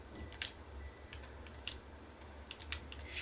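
Soft, scattered taps on a computer keyboard as a code is typed out, quiet and close with irregular keystroke clusters over a faint hum.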